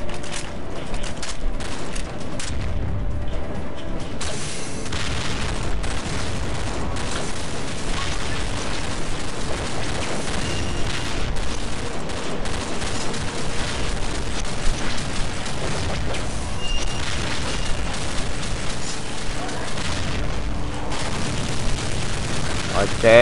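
Sustained gunfire in Counter-Strike Nexon: Zombies, with dense rapid shots and booming explosions running continuously and loudly under a busy mix of game sounds, with people talking.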